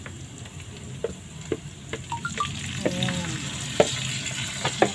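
Chicken frying in a pan for carbonara, a steady close sizzle punctuated by scattered clicks and scrapes of stirring, with a brief spoken word at the start.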